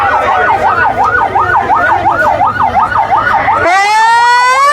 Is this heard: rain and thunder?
no